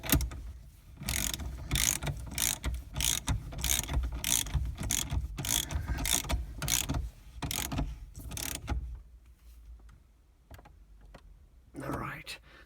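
A 24mm nut on a Lancia Delta Integrale Evo2 tightened with a hand ratchet, a rapid series of sharp clicking strokes in quick rhythm, close, followed by a quieter pause and a last faint click or two.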